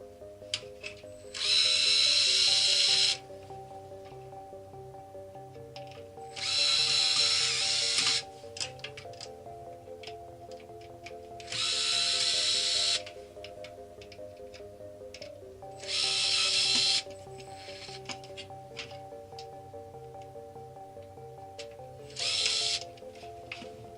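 A power drill backs the screws out of a PC case fan in an old computer case. Five loud whirring bursts of a few seconds each stand out against a quieter steady background.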